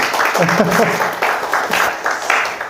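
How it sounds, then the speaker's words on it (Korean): Listeners at a church small-group meeting applaud after a testimony, with brief clapping mixed with a voice speaking over it throughout. "우리 너무 많은 은혜를 주신 우리 윤정자님께 다시 한번 감사의 박수"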